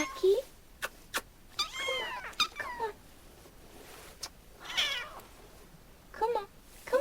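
Several kittens meow in short, high mewing cries scattered across the scene, some close and some further off, with a person talking softly between the calls.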